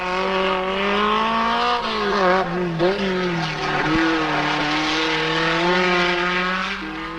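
A 1973 Rally de Portugal car races along a tarmac stage, its engine note steady and loud, rising and falling slightly as it revs through the gears, heard alone without talk.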